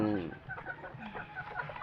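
Gamecocks cluck softly in a short run of quiet, closely spaced calls after one brief opening cry, with faint background noise throughout.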